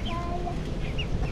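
Hens cluck in short bursts at close range over a steady background hum, with a few soft bird calls mixed in.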